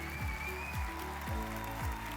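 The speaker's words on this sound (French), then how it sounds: "si on peut les applaudir." Audience applause for the finalists of an international dictation contest grand final: a dense, steady wash of clapping over regular deep thumping beats, sustained through the whole short moment.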